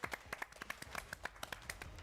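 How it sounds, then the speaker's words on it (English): Studio audience applause for contestants on a live television game show, with a quick run of separate claps at close range over about two seconds, thin and uneven rather than a full roar. "give yourselves a round of applause"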